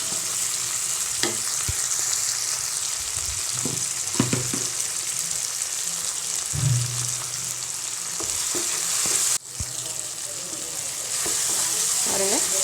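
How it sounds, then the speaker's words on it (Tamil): Tomatoes sauté in a pan for a spicy cowpea curry, giving a steady close sizzle broken by occasional stirring scrapes and clanks of a spoon against the pan. "தக்காளி நல்லா மசிகிற வரைக்கும் இது வதக்கலாம்."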